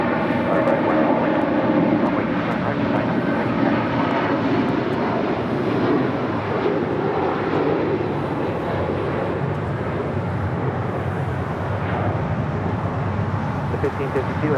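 Airliner taking off from runway 25 right at LAX, a loud sustained engine roar holding steady throughout, with tower radio talk running underneath.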